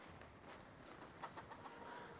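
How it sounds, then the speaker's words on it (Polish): A flock of hens and chickens in a Polish backyard poultry pen cluck and chatter softly at a distance, with scattered short calls over faint, quiet background noise. "Kury."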